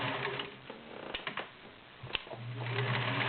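A Kenmore 1720 sewing machine stitches through six layers of denim with a steady, close mechanical whir and a few sharper clicks midway, then resumes running alone without talk.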